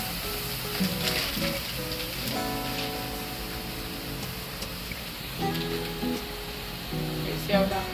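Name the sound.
Trini curry chicken sizzling in the pot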